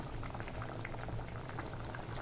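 Fish curry stew with curry leaves and plenty of coriander boiling in a pot, giving a steady, continuous bubbling simmer close by, with no talk over it.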